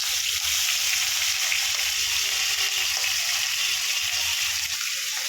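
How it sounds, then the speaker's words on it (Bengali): Hot oil in a kadai sizzles and crackles steadily as fish fries, a close, continuous hiss with small pops and no voices. "এই দেখুন তেল দিয়ে দিয়েছি, এবারে মাছ দিয়ে দেবো।"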